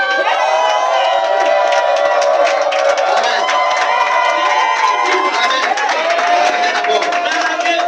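A church congregation at a thanksgiving service shouts cries of joy together, a loud, sustained roar of many voices with whoops and scattered clapping filling the whole stretch.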